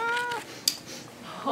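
A cat gives one clear meow up close, followed by a sharp click and a soft rustle.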